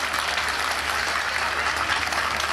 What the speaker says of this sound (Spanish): Saludamos con un fuerte y cariñoso aplauso a su majestad, Carlita I,